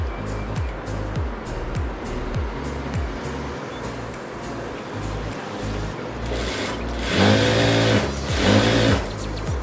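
A sewing machine hums steadily while stitching the neckline of a blouse, its rapid needle rhythm running continuously and growing louder and busier near the end, with someone talking over it.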